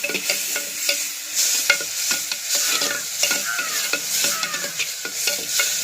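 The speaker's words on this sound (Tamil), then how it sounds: "மஞ்சட்டியில் கிண்டுற சவுண்ட் நல்லா இருக்குல்ல." A fish curry masala with tomato, tamarind and chili powder is stirred in a clay pot: repeated scraping strokes over a gentle sizzle, close and clear, with no voices.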